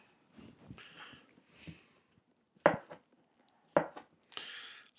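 A knife cuts through pork chops on a board with two sharp, distinct chops standing out among softer scraping and handling sounds, close and fairly loud, with no talking.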